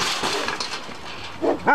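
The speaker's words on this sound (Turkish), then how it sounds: "Burada Dogo Arjantin'e var. Bu kangaldan sonra benim favori köpeğim." A Dogo Argentino dog barks and whimpers close by, with a few short yelping bursts near the end and no talk over it.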